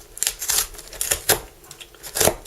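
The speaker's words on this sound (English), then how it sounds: "The noise you can hear is my computer and my keyboard rattling about a bit." Computer keyboard and desk gear rattling during a Windows Phone 8X by HTC unboxing, a series of irregular close clicks and clacks in short bursts, fairly quiet, with no talking.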